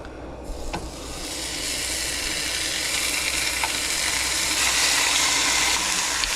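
Five slices of pork shoulder searing in an overcrowded pan over high heat, a steady close hiss that swells just after the meat goes in, then holds loud and continuous with a few faint taps.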